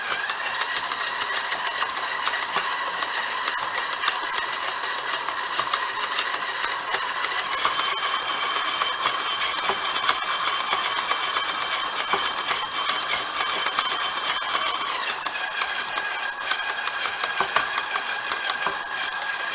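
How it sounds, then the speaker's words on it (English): A stand mixer kneads pizza dough with a steady, even motor whir that holds at the same level for about twenty seconds, with a faint rhythmic knocking from the dough hook and no talking. "I'm just going to go until it comes together into a ball, and then maybe for about 2 minutes with the mixer"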